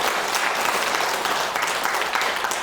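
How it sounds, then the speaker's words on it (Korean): A seated audience at a Buddhist dharma talk breaks into steady, dense applause, many hands clapping together at an even level from start to finish. "박수 쳐주세요."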